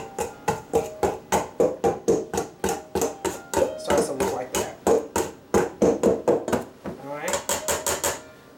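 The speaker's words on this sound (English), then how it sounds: "take my little fork here and just go in a little bit more to make it a little more coarse" A small fork repeatedly strikes a bowl while cutting vegan butter into a coarse crumb mixture, giving a fast, regular series of sharp metallic taps and scrapes, close and clear.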